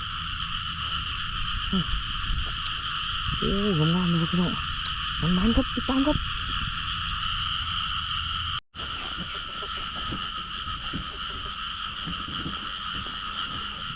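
Frogs croaking in the rain, gathered in mating pairs: a run of loud, close, bubbling croaks over a constant high hiss of rain and insects, with a brief dropout near the end.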